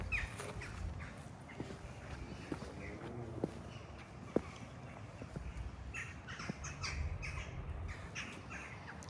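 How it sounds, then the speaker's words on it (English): Crows squawk in scattered, harsh calls around the garden of St German's Cathedral in Peel, Isle of Man, where they are feeding on apples. Footsteps and light outdoor ambience sit beneath the calls. "Looks like the crows are here helping themselves to the apples"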